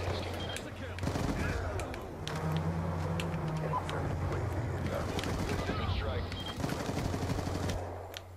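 Warthog killstreak aircraft strafing in Black Ops 2, with sustained rapid gunfire and rumbling blasts rolling through the match under steady talk.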